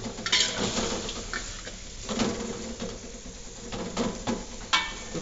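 A spatula scrapes and clatters in a pan while chicken filling for lemper ayam is stir-fried until it dries; irregular close metallic taps and scrapes over a soft background, no talking.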